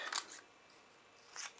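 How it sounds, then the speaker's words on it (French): Scissors snipping out paper letters, two quick, close, crisp cuts separated by a short pause, quiet and alone in a still room. "Alors, je coupe."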